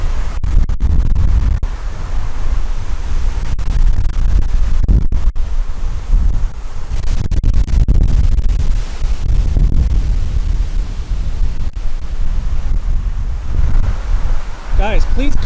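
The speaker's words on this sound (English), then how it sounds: "This is the gust front." Strong, steady wind roars from a thunderstorm gust front as the temperature drops, buffeting the microphone with constant low rumble and rushing gusts throughout, with no break in the blowing.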